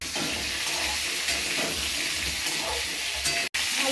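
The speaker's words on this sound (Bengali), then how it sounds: "আলুটা ভাজা হয়ে গেছে" Potatoes frying in oil with chopped ginger, a continuous dense sizzle close to the pan with light stirring clatter, steady throughout and briefly cut near the end.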